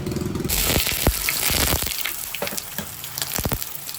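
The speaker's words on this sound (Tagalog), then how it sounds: "maglagay na tayo ng mantika" Cooking oil pours into a pan and crackles in a broad, loud rush, with a sharp pop and a burst of sizzle that stay steady across the whole stretch.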